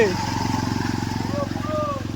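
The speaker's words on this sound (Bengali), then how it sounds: "দেখো আর একটা বাইক আসছে" A motorcycle with its silencer submerged putters steadily nearby with a rapid, pulsing rhythm as it rides through floodwater, while voices talk over it.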